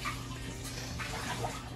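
Water running steadily from a tap, a short continuous splashing stream at close range with no talking over it.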